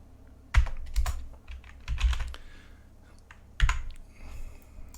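Close, crisp typing on a computer keyboard while entering Python code, heard as bursts of clustered key clicks with short pauses between them and no voice.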